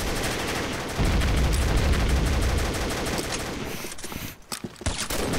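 Rapid automatic gunfire in the online shooter Combat Arms, dense continuous bursts with a heavy low rumble, then sparser individual shots and short gaps near the end.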